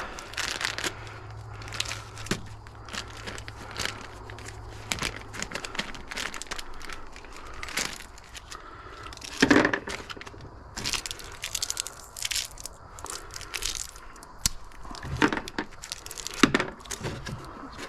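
A crinkly plastic package like a chip bag being pried open by hand, with bursts of crackling, crumpling and tearing that come in irregular close rustles over many seconds.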